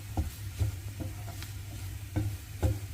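Egg kothu bread with masala is stirred in a pan, a spatula tapping and scraping in several distinct strokes over a low, steady frying sizzle, close and fairly quiet with no voices.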